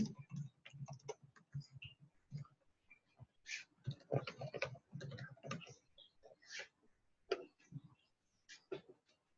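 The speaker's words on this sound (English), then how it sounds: "I'm going to type in Georgie's credit card information" A credit card number being typed on a computer keyboard, with quiet irregular key clicks in quick bursts and brief pauses between them.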